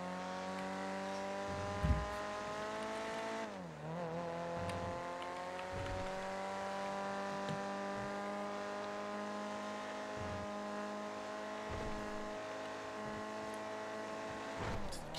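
A car engine drones steadily as it drives in a video game, with one gear-change dip in pitch partway through, then a continuous even hum, moderately faint and without speech.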